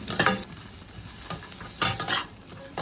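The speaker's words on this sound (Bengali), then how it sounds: "তো এটা দিয়ে একটু কাজু কিশমিশটা আগে ভেজে নেব।" Cashews and raisins frying in Amul ghee, close and loud, with bursts of sizzle and two or three distinct scraping stirs of a spoon against the pan, no talking.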